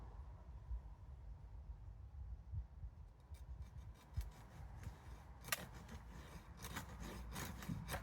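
Handsaw starting a cut into a collected garden ash tree, faint rasping strokes that grow more rhythmic and distinct toward the end over low background rumble, with no speech.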